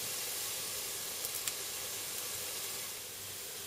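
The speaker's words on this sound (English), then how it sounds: "And the garlic's cooking away." Garlic and rosemary sizzle in a pot for a pumpkin and chickpea soup, a steady, even hiss that holds for several seconds with no talking.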